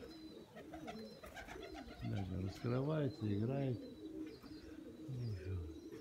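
Pigeons coo in soft repeated bursts near the microphone, a few calls stacked over a steady background, while someone talks on and off in Russian.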